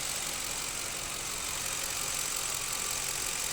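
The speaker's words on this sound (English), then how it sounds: "That's what you're hearing, is the sound of the 8 injectors." A 2005 Lincoln Town Car engine idles with a fine, busy ticking from its eight injectors, a steady, even hiss-like clatter heard close up with no voices.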